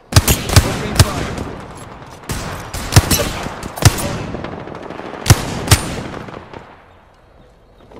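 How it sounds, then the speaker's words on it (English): Machine gun bursts in a combat video game, a string of sharp, loud shots in uneven clusters with rolling echoes, fading out toward the end. "Opening fire."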